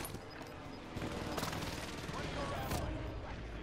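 Dense gunfire from Call of Duty: Modern Warfare, a steady barrage of shots and bursts filling the whole stretch at moderate loudness, mixed with game noise and speech.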